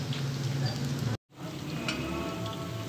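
Onions fry in oil in a home kitchen pan while chicken pulao is being made, a steady close sizzle and crackle with a brief dropout near the middle.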